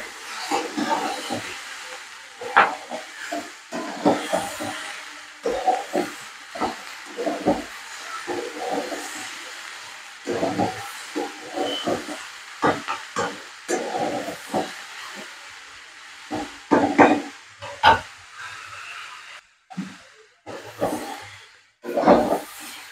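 Spices with ground cumin are stirred and fried in a pan, giving a soft, steady sizzle broken by repeated scraping and clinking strokes of a spoon against the metal, close and uneven in rhythm.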